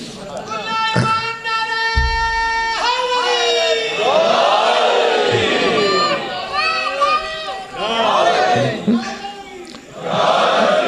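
A large crowd at a Shia religious gathering chants religious slogans loudly in unison, the voices surging and falling in rhythmic waves with barely a pause.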